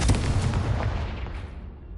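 A Confringo fire spell from Hogwarts Legacy erupts in a loud, booming blast with a heavy low-end burst that rolls on and slowly fades over two seconds, with no talk.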